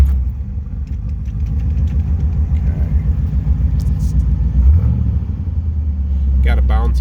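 A 1968 Corvette's 327 cubic inch V8 rumbles to life and settles into a deep, lumpy idle, with a brief rev midway; a voice speaks briefly over the low throbbing.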